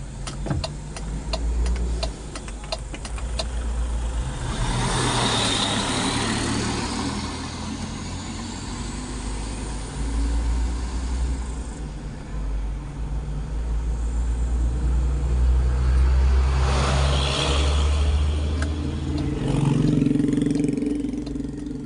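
An old bus engine rumbles steadily along a road between Toraja and Makassar, Indonesia, with passing traffic swelling and fading and a faint rapid ticking early on.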